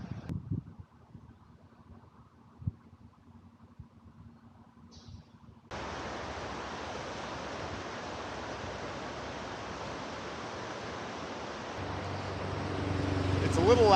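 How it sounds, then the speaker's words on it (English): Traffic on Delta Highway beside a riverside bike path in Eugene, Oregon, heard as a steady broadband roar that starts abruptly and keeps building toward the end, with quiet outdoor sound before it. "It's a little loud at this spot because we're right next to Delta Highway"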